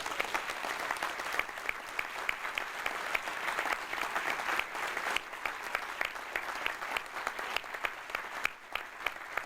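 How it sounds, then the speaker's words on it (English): Sustained applause from a convention audience honoring volunteers and committee members at an amateur radio gathering, dense steady clapping with sharp individual claps popping out, moderately distant and continuous throughout. "I'd just like to hear one big round of applause for all the volunteers and committee members that helped put"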